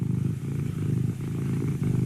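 A person imitates a cat purring with their voice, a steady low rumbling drone held close and fairly loud, with slight pulsing throughout and no other sounds.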